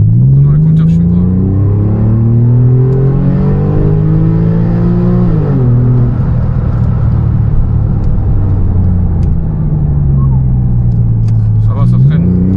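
A Porsche 911 Carrera type 996 engine revs up hard toward its 7000 rpm limiter, pitch climbing then dropping at a shift, followed by a second rising pull, loud and close from inside the car.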